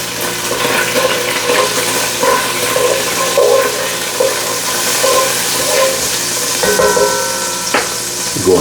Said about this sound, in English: go in with another 2 tablespoons unsalted butter